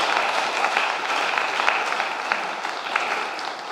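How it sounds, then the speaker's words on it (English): A church congregation applauds, a continuous patter of many hands clapping at moderate volume that tapers slightly near the end. "Let's give him a round of applause"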